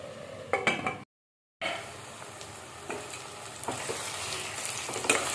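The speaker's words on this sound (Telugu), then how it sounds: "ఇదంతా ఒకసారి బాగా కలుపుకుందాం" Curry with turmeric and salt stirred in a pan, with a soft sizzle, scraping spoon strokes and a brief clink against the pan, interrupted by a short silent gap.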